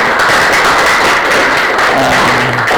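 Dense, loud applause from a school audience at a novel launch fills the whole stretch, a steady wash of many hands clapping at once with no pauses.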